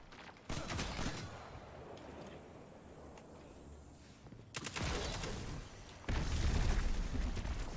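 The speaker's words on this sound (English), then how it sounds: "They're already firing rockets." Rockets firing and exploding in the Destiny 2 video game: three loud bursts of rapid blasts and booms, the last one heaviest, with quieter rumbling between them and no talking.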